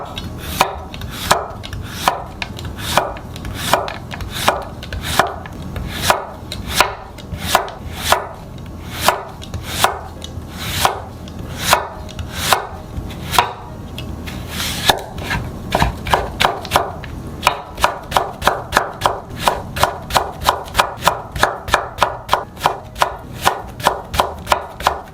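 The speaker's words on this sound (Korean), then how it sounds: "호박은 최대한 길쭉하게 얇게 잘라주세요." A knife chops zucchini into long, thin strips on a cutting board in steady, rhythmic strokes, close and crisp, speeding into a rapid run of chops near the end, with no talking.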